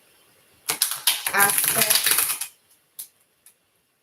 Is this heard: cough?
no